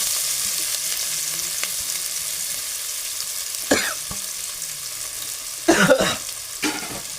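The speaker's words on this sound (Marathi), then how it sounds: "तर कांदा मी फोडणीला टाकला." Chopped onion sizzles steadily in hot tempering oil in a pan, a continuous frying hiss with a few louder stirring clatters and bursts toward the end.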